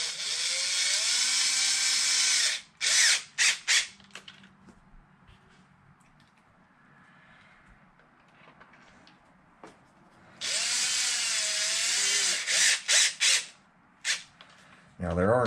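A power drill fitted with a long bit whirs in loud bursts during wing installation on an Arrma Felony RC car: a long run, then quick short pulses, a quiet stretch, then another long run and more short bursts.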